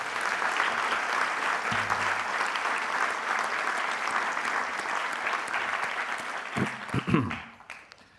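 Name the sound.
applause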